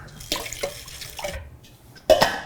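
Water poured into a bowl of iced water, heard as a few short splashing bursts and trickles, close and fairly clear, with a louder pour near the end and no talk.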